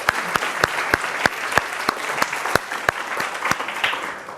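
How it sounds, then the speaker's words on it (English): A lecture audience claps to welcome a guest speaker from LinkedIn. The applause is moderate, with a few sharp, distinct claps standing out rhythmically above a softer bed of scattered clapping throughout. "Let's give him a big applause."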